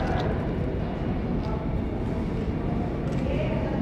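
An R32 C subway train rumbles steadily through a station, a dense continuous low roar of wheels and cars passing close by for several seconds, with no clear talk over it.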